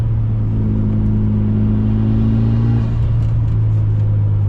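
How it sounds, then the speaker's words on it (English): A loud turbocharged car engine rumbles and revs close by around 3,000 RPM, with a deep steady drone, wastegate chatter and a brief dip in pitch partway through. "We've got wastegate chatter."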